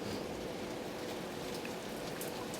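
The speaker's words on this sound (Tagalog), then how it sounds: "Grabe ang ulan, no? Lakas, oh." Heavy rain pours steadily, a dense continuous hiss of drops drumming on surfaces with no other sounds.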